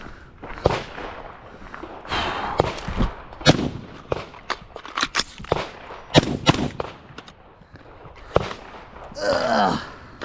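An MK18 rifle fires sharp, close shots in uneven bursts during static range drills, with short pauses between strings and a few spoken words in between.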